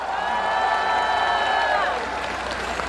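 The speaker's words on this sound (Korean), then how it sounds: "박수 한번 보내주세요." Concert crowd at an azalea festival celebration show applauding, a continuous wash of clapping and cheering beneath a sustained musical tone that fades out near the end.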